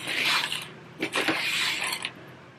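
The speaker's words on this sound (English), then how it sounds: "I'm going to take clips all the way around my gusset" Plastic sewing clips snapping onto the fabric edges around a book bag gusset, a quick series of close, soft clicks and rustling fabric over about two seconds.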